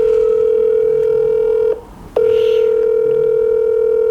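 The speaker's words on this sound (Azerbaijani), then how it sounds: "Bəli, həmin o sarışın qıza yığıram." A telephone line tone while a call is placed to a friend: a loud, steady single-pitched tone that cuts out briefly midway and then resumes, with no talking.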